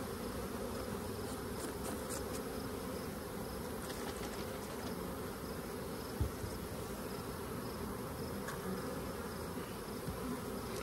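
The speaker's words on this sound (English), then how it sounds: "that ought to be at least a couple hundred bees." A couple hundred bees buzz steadily inside a jar after being scooped from a hive frame, a dense continuous drone close by with no talking.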